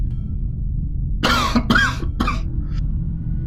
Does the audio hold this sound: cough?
yes